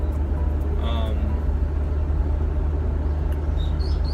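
Steady, close road rumble of a car driving around, a continuous low engine and tyre drone with faint higher whines drifting over it and no breaks.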